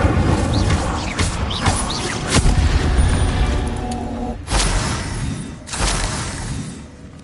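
Fire spell cast in the Hogwarts Legacy video game, heard as loud crashing bursts and booming blasts with crackling layered over a dense, continuous game soundscape.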